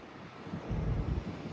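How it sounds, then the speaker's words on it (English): Sea breeze gusting across the deck of the Marella Explorer cruise ship near St Maarten, a steady low rumbling wind buffet that swells in the second half, with no voices. "There's a lovely breeze"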